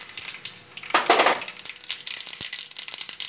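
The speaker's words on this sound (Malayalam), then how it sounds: "എണ്ണ ഇപ്പോൾ ചൂടായിട്ടുണ്ട്. നമുക്കിനി കടുക് ഇട്ട് കൊടുക്കാം." Mustard seeds drop into hot oil in a pan and set off a loud burst of sizzling, followed by steady frying with scattered light pops and crackles.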